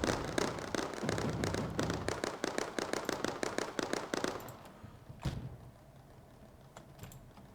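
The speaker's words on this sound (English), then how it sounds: "Oh, they're shooting me." Rapid bursts of gunfire from enemy units in the game Mindustry, a dense run of sharp cracks that thins out into a few scattered shots and then near quiet.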